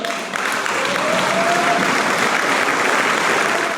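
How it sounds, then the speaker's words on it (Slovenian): Sustained applause from an audience honouring motorsport lifetime achievement award winner Igor Trifoni, dense steady clapping filling the room throughout with no voices. "To je bil del aplavza, ki ga je prejel dobitnik priznanja za življenjsko delo v motošportu Igor Trifoni"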